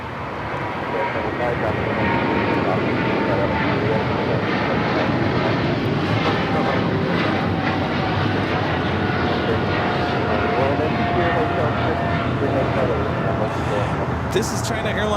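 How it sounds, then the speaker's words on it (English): A China Airlines cargo plane takes off from LAX bound for Taipei, a loud, sustained engine roar that stays strong and even across the whole stretch, with voices talking over it. "This is China Airlines cargo 5115 taking off to Taipei"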